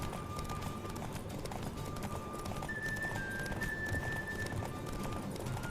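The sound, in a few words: horse galloping in the video game The Witcher 3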